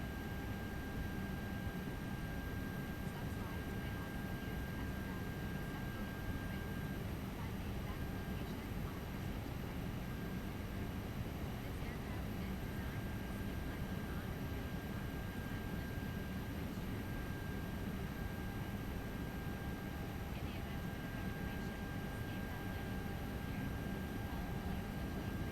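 Airbus A320 auxiliary power unit in X-Plane 11, a constant faint whirring hum with a steady whine, unchanging for the whole stretch, with light talk over it.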